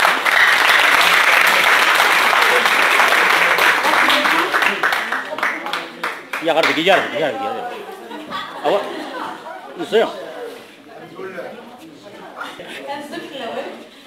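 An audience at a Kabyle gala bursts into loud, sustained applause that gradually fades into scattered claps, chatter and a few chuckles.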